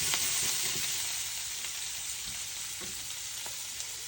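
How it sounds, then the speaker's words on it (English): Lobster chunks frying in a pan with plenty of butter: a steady, close, bright sizzle runs throughout with a few soft clicks of the food shifting, no voices. "we're just gonna throw those lobster chunks down in there. Let those cook for just a minute."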